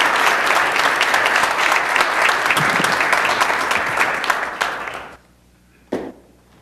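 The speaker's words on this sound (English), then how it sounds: "let's have one more round of applause for all of our municipal employees." A council chamber crowd applauds municipal employees at a city council meeting: loud, dense clapping that holds steady for about five seconds, then cuts off sharply, leaving quiet broken by one brief knock.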